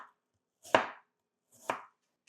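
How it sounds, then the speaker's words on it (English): A knife slices thinly through apples for apple pie, giving three crisp, separate cuts spaced about a second apart, close by and with no talk. "you just want to make sure that you're cutting these super thin"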